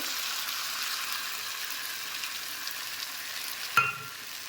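Tomato with ground coriander, cumin, chili and turmeric fries in a pan, giving a soft continuous sizzle, then a single sharp clink of a utensil near the end.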